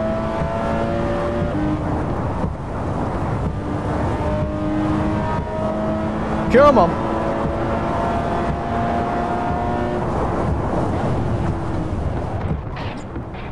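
Car engine in the No Hesi driving game, a steady sustained drone with layered tonal harmonics running throughout, a brief rising whine near the middle, and a short spoken remark over it.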